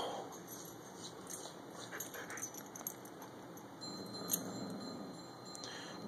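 A dog growls low and steady while meeting a puppy indoors, quiet and close, with faint whimpers and small clinks mixed in and no one talking.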